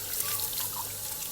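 Water is poured out in a brief, steady splashing rush to put out a small outdoor fire used for roasting corn cobs, heard close and alone.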